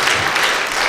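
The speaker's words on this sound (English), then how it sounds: "we'll give them a round of applause" A lecture audience at a university applauds, a short, even burst of dense clapping.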